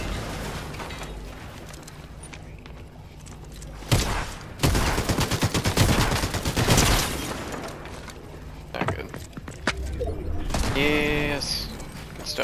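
Bursts of video game gunfire rattle out in rapid volleys, loud and close, separated by quieter gaps with mechanical clicks and a rising electronic tone near the end.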